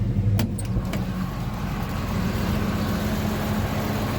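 A John Deere tractor engine runs steadily at close range, a continuous low rumble with no talk over it.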